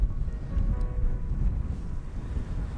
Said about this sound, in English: So the wind just keeps kicking up just when you think you got the shot.